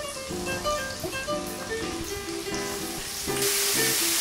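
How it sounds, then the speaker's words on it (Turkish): Sliced mushrooms added to a pan of softened onions and garlic in hot oil, for beef stroganoff, give a steady close sizzle with a brighter burst near the end, under continuous background music. "Şimdi hemen ben mantarımı da ekliyorum."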